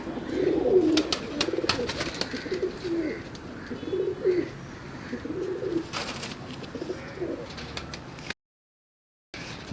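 Pet pigeons coo repeatedly at close range in soft, rolling phrases, joined by scattered chirps and occasional flapping, with a short silent gap near the end.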